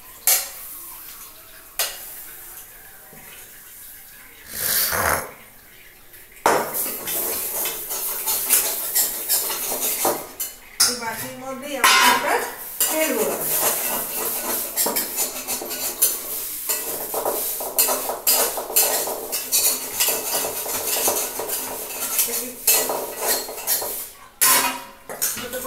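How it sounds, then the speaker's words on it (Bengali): Cooked lentil paste for dhokar dalna is scraped and moved onto a metal plate, with steady metallic clinks, scrapes and clatter of utensils against the plate, plus a faint sizzle of oil heating nearby. "আমি এটাকে এবার থালায় নামিয়ে নিলাম"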